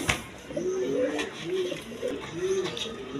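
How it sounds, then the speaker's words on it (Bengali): A pair of shirting pigeons, a breed called jhorna shirting, coo in soft repeated low phrases at close range, running through steady background noise with faint high sounds above. "এইখানে এক পেয়ার শার্টিং কবুতর আছে দেখার মতো"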